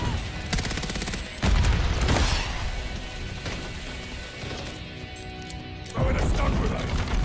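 A stun grenade bangs amid sustained video-game gunfire, with several loud bursts and crashes standing out from the ongoing rattle of shots, while players talk over the action.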